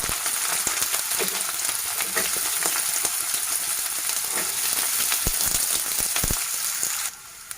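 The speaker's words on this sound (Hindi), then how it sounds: "अब इसमें मैं पहले प्याज डालूंगी फ्राई करने के लिए" Onions sizzle and crackle steadily in hot oil in a pan, a close, continuous frying hiss with scattered pops, cut off abruptly near the end.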